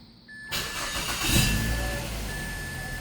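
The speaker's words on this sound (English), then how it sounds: "we're inside the car and we're gonna turn the car on." A car with a rich-running engine fault (code P2188) is started from inside the cabin: a sudden burst of cranking catches about halfway in, then settles into a steady, fairly loud idle hum with a faint tone running through it.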